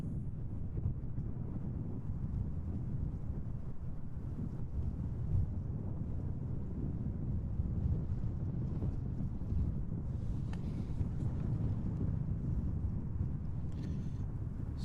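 Strong wind blows at Schiphol airport, a loud, continuous buffeting roar across the microphone that holds steady for the whole stretch with no pauses.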